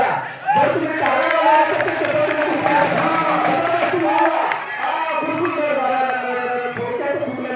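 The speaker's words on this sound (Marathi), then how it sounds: "अशा प्रकारचं टाळ्या वाजवा" Crowd at a village fair wrestling tournament clapping and cheering loudly and continuously, with shouts and whoops rising over the dense roar throughout.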